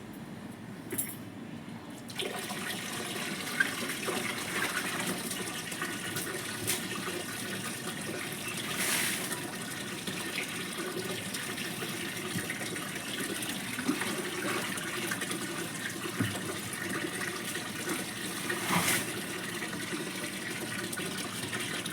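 Fresh cold tap water pours at night over potted garden plants, a steady splashing gush running the whole time with small clinks and knocks scattered through it.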